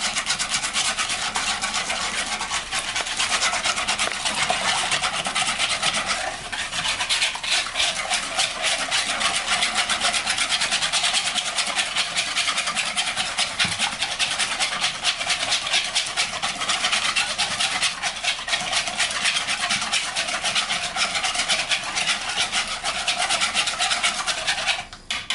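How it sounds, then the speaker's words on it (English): Sugar and eggs for an apple cake beaten with an electric mixer, a loud, steady buzzing whir that runs unbroken for the whole stretch with no talking. "sugar, eggs, and I'm gonna beat everything together"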